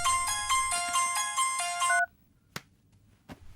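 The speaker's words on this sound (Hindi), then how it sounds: "फोन की घंटी बज रही है" An electronic phone ringtone trills in a repeating melodic pattern for about two seconds, then stops, leaving a quiet room with a couple of faint clicks.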